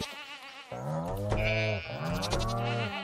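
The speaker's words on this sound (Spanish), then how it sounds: "Aquí tenemos las vacas" Cows lowing in the Stardew Valley video game, two long, nearby calls in quick succession, clear and alone without talk.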